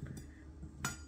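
Knife cutting into frozen homemade salo (cured pork fat), giving two brief sharp crunching clicks, close and fairly quiet, with a low room hum behind and no talk.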